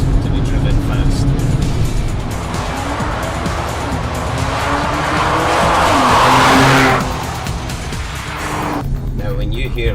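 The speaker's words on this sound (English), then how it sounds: "Then the supercharged V6 3-litre TFSI engine kicks into life." A supercharged 3-litre V6 TFSI car engine revving hard under acceleration, a loud rising roar that peaks then drops sharply, with a voice talking over it.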